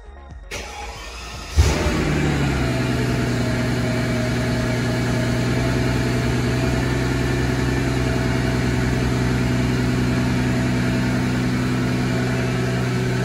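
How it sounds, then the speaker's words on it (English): A 2004 Mercedes-Benz S600 5.5 twin-turbo V12 cranks briefly and fires up, its exhaust settling straight into a steady, fairly loud idle that holds without revving. "we're gonna get the sound of the exhaust at startup"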